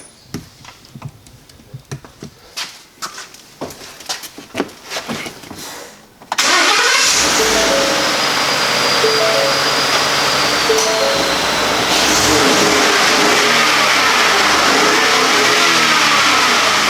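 A 2016 Ford F150 engine, just fitted with new spark plugs, cranks and catches after some clicking and rustling, then runs loud and close with a steady idle and a brief rev.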